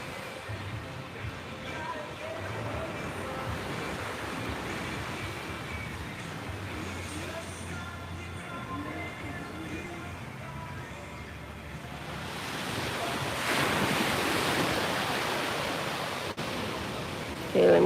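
Ocean surf washes steadily over a rocky shore in Puerto Vallarta, a continuous broad roar that swells louder toward the end, with some wind buffeting the microphone.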